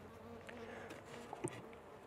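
Honeybees buzz faintly in a strong beehive colony during a brood inspection, a soft continuous drone with a few brief nearer buzzes.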